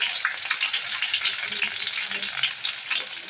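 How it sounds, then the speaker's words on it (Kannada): Garlic frying in hot oil for a lentil dish, a dense steady sizzle that crackles continuously and fairly loud, close up, with no talk. "ಎಣ್ಣೆ ಎಲ್ಲ ಬಿಸಿಯಾಗಿದೆ. ಇವಾಗ ಬೆಳ್ಳುಳ್ಳಿನ ಹಾಕ್ಕೊತಾ ಇದ್ದಾರೆ. ಬೆಳ್ಳುಳ್ಳಿನ ಚೆನ್ನಾಗಿ ಫ್ರೈ ಮಾಡ್ಕೋಬೇಕು ಸ್ವಲ್ಪ."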